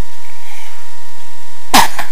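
A single short, sharp baby sneeze near the end after quiet background hum, followed by a faint breathy sound.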